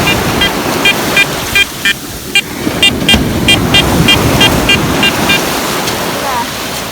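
A metal detector on a beach gives short, repeated beeping signal tones in an uneven rhythm over steady surf and wind noise.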